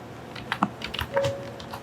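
Keys clatter on a computer keyboard as a command is entered in a terminal: a quick, uneven run of light clicks and taps, close up and fairly quiet, with no talking.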